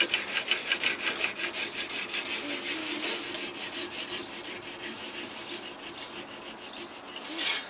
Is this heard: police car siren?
no